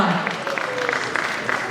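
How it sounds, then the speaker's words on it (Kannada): An audience claps at a film critics' academy award ceremony as a best singer award is presented, a dense, steady patter of hands lasting under two seconds while a voice speaks over it. "ದಯವಿಟ್ಟು ಜೋರಾದ ಚಪ್ಪಾಳೆ ಬರಬೇಕು"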